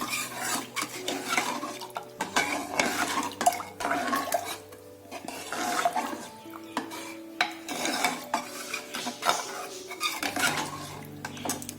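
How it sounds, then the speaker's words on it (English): A spoon stirs drumstick sambar in a metal pot, with repeated scraping and clanking against the sides in uneven bursts, close and fairly loud, over a light simmering bubble. "We'll give it a mix."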